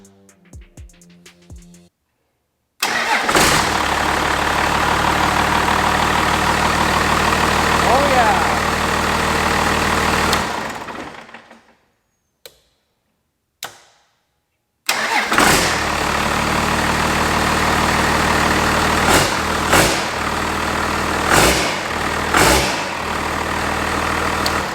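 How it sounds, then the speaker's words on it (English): A Cummins diesel swapped into a 1967 Ford F-250 cranks, stops briefly, then cranks again and fires, settling into a loud, close, rough idle with a few revs. "let's hook the fuel solenoid up and we'll crank it over a bunch and see what happens"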